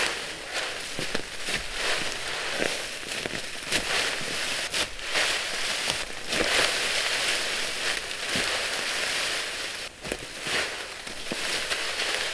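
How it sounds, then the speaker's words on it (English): Rain falls in the woods around a bushcraft shelter built without tools, a steady broadband hiss with scattered sharper drips and patters throughout. "More rain."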